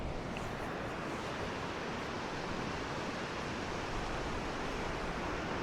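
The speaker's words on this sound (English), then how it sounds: "See the glassy water? Here comes the wave." Ocean surf rolls in over glassy water, a steady broad wash of wave noise with no breaks, fairly soft and continuous throughout.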